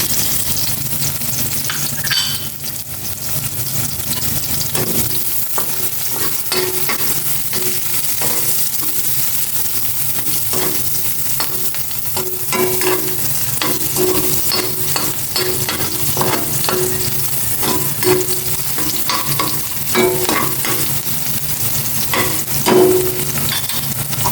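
Chopped onions sizzle and fry steadily in a hot pan, with a constant crackle punctuated by repeated scraping and clinking of a utensil stirring against the metal.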